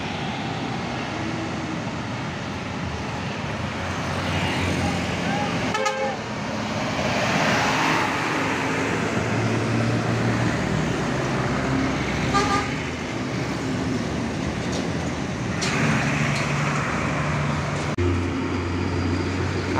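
At a busy three-way junction, Simpang 3 Ngujang, a Harapan Jaya bus goes by amid steady road traffic rumble. Repeated horn toots sound near the start, middle and later on, and the passing engine noise swells and fades.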